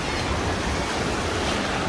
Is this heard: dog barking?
no